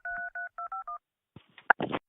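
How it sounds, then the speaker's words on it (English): A phone number is punched into a mobile phone, about six quick keypad tones in a row, followed by a short rustle and a couple of clicks. "He punched in Roland's number."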